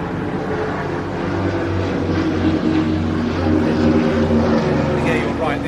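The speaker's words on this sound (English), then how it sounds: "A beautiful break from the two Flamants as they head in towards us" Two Flamant aircraft break formation and fly in toward the crowd at the Jersey International Air Display 2022, a steady propeller-engine drone holding throughout under continuous commentary.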